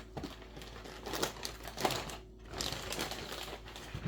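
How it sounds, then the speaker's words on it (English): Plastic Ziploc bags crinkling and rustling as they are handled up close, with irregular bursts of crackle and crinkle across the stretch and no talking. "So now I'm going to be putting them in Ziploc bags."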